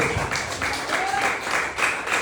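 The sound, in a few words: applause for Jesus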